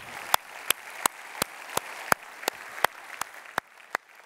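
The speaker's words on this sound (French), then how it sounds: "j'aimerais qu'on applaudisse fortement Nicolas" Sparse applause from a conference audience, a dozen or so spaced, sharp claps at a slow steady rhythm, fairly distant and light, with no talk over them.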